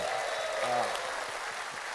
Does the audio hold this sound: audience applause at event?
yes